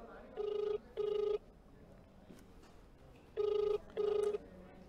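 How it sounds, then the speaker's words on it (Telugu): A phone call rings back through the earpiece in two pairs of loud electronic ring pulses separated by a quiet gap, with faint background noise between them. "సుభాష్ రెడ్డి ఫోన్ రింగ్ అవుతోంది."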